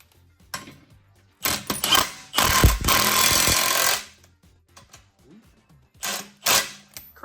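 An impact wrench fitted with a chrome socket rattles in short loud bursts during chassis work on a Porsche 356 build, with a long hammering run in the middle and quieter clanks between bursts.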